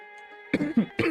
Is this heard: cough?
yes